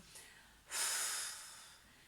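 A single long exhalation during a sophrology relaxation exercise, a soft breathy rush of air that swells suddenly, holds, then tapers off, close and alone after a faint earlier breath.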